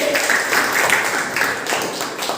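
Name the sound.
students clapping for team A in a classroom quiz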